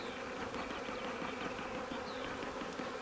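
Honey bees buzz steadily at an open hive during queen rearing, a dense, continuous close-up hum with no talk.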